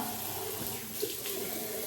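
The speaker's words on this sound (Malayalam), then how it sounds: "നമുക്ക് ആദ്യമേ ഒന്ന് വെള്ളം വെച്ചൊന്ന് നനച്ച് കൊടുക്കണം" Tap water runs in a steady, close, even gush for face washing, with no voices over it.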